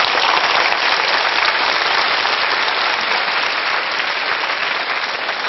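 Sustained applause from a lecture hall audience at a televised Korean inspirational talk, a dense, loud, even roar of clapping that holds steady and fades slightly toward the end, with no voices over it.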